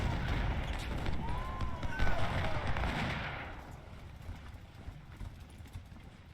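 Civil War battle gunfire in the Ultimate General strategy game: dense crackling musketry and distant booms under a low rumble, loud at first and thinning out, with a voice speaking over it.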